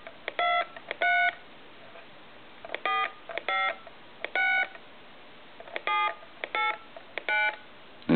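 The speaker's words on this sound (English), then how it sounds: "I'm going to go ahead and dial some numbers." Touch-tone dialing beeps from a tomato-shaped Del Monte novelty telephone, a series of clear, close dual-tone presses in irregular bursts with short pauses between them, and no talking.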